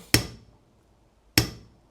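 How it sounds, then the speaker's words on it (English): Two sharp, loud hammer strikes ring against the metal door of a Chevy square body truck, spaced about a second apart, each with a short metallic decay and no talk. "Let's get a couple more hits on this then. Hit it with the hammer."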